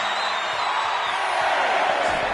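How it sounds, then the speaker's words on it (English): A roaring arena crowd in the WWE 2K26 wrestling video game on a PS5 Slim, forming a dense continuous wash of cheering and whooping at steady high volume. "this crowd is looking to bring the house down tonight"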